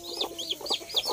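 Rhode Island and Black Australorp chickens give soft, rapid repeated clucks and peeps close by, several quick calls in a row with no talking.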